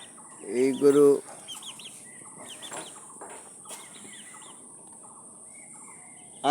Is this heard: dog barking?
no